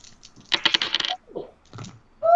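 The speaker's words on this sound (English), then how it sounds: "I love that dice roll sound." Dice for a tabletop pirate role-playing game clatter across a hard surface in a quick burst of bright rattling clicks, then a few softer tumbling knocks and a final settling clack, close and clear with no talk.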